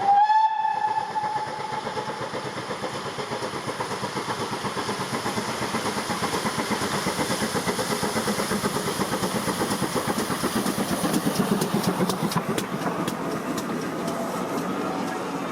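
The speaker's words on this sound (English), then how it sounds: "the ghostly squawking of steam engines as they thunder around in their nostalgia" Steam locomotives running in the Forest of Dean: a steam whistle sounds at the start, then a steady, fairly loud rolling rumble and clatter of the moving train carries on throughout, with birds faintly in the background.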